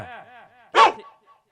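A single sharp, loud dog bark bursts out right after a short stretch of speech during an outdoor village stage performance. Faint sounds trail off afterward.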